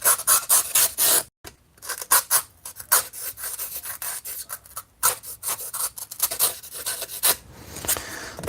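A craft knife slices a bevel into model building material, giving repeated close rasping, scraping strokes in uneven bursts with brief pauses between cuts.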